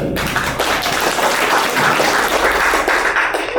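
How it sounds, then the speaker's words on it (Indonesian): An audience at an Islamic boarding school gathering with a preacher applauds. Steady, dense clapping fills the space close and loud, with no one speaking over it. "Tepuk tangan buat Bro Cahyo"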